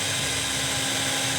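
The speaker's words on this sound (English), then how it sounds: "Then I can drill it in" An electric drill drives a screw into a wooden guitar body during a DIY build, giving a continuous, even high whir that fills the stretch without pause.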